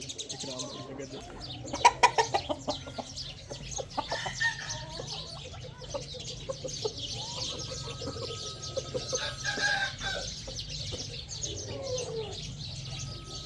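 Chickens cluck and a rooster calls among chirping birds on a farm, a busy barnyard chorus with scattered sharp clucks rising and falling.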